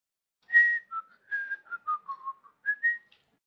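A person whistles a short wandering tune of about a dozen notes over a voice chat during a tabletop role-playing session, clear and close against silence.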